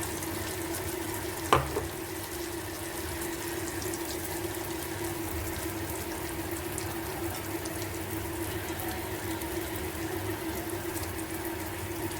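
Gram flour (besan) roasting in hot oil for a besan bhurji gives a steady, close sizzle and frying crackle that runs continuously, with one brief sharp clink near the start.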